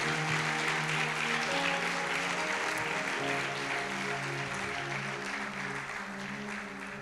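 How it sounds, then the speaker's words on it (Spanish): A church congregation claps in praise to God, a dense, even wash of applause under sustained organ or keyboard chords that fades slightly toward the end. "Demos un aplauso a Dios por eso."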